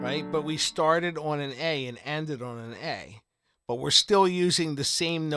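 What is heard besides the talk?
No everyday noise stands out behind the speech.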